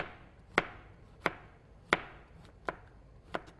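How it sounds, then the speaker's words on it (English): Knife chopping zucchini and summer squash into half moons on a cutting board, five or six sharp evenly spaced knocks, close and distinct with no talking. "I'm just doing these half moons."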